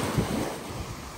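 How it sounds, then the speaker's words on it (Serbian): Sea waves wash onto a beach at Nei Pori, a soft, continuous surf hiss mixed with wind buffeting the microphone, fairly quiet and steady with a slight swell near the start. "Evo vidite more"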